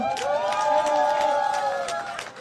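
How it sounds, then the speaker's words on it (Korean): A campaign rally crowd at a street-intersection election event cheers loudly, with sustained shouts and whoops over rapid clapping that keeps rising and falling before easing off at the end. "크게 박수 한번 보내주시면 어떨까요?"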